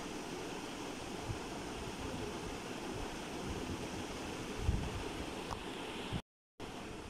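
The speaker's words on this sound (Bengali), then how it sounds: "আমার প্যানগুলো ধুয়ে নিব।" Pans being washed under a running kitchen tap after dinner, a steady broadband rush of flowing water that continues unbroken for several seconds before cutting out briefly near the end.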